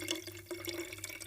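Liquid being topped up into a SodaStream bottle, sherry to be carbonated, a steady close trickle and splash of pouring running continuously throughout.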